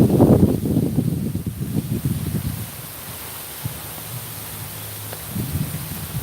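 Wind gusts through garden plants on a cooling evening, with rustling leaves and buffeting against the microphone that is loudest at first and then settles into a softer, steady hiss.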